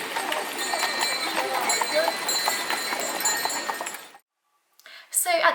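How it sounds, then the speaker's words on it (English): Horses pulling sleighs in the snowy mountain town of Wisła, Poland: steady, close clip-clopping of hooves with jingling bells and clinks, ending abruptly in a brief silence before a short burst of other noise. "You see the horses with the sleighs that they pull."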